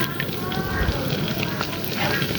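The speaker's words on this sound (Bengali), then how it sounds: "দেখুন প্রত্যেকটা এভাবে ভেজে নেব।" Palm juice donuts frying in hot oil over medium heat give off a dense, steady sizzle and crackle, loud and close, with no pause.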